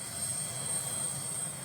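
A steady, fairly faint aircraft engine drone with a high whine comes from an Antonov 74 at the Barneo ice airport in the Arctic, continuous throughout.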